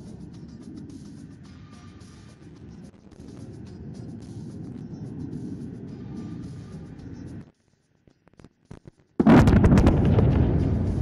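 Bombs dropped by Indian Air Force aircraft at a firepower demonstration at Pokhran: a long low rumble, a brief near-silent gap, then a loud booming blast that rolls on to the end.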